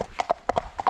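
Horse hooves clip-clopping during a ride, a quick uneven run of about eight sharp, close hoof strikes on firm ground.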